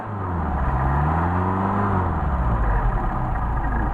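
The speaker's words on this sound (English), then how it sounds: "Good transition from idle to running, from idle off from the idle circuit to the mains." A Porsche 930 engine pulls up from idle into a steady, rising rev, a loud close mechanical drone that holds strong for several seconds with no voices.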